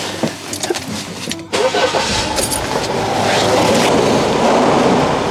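A car engine cranks with a few uneven bursts, cuts out briefly, then catches and settles into a steady running rumble nearby.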